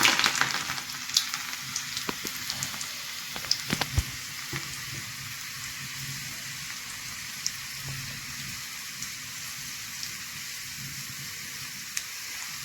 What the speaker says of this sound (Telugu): ఇప్పుడు నెక్స్ట్ అయితే వెల్లుల్లి రుబ్బలు వేస్తున్నా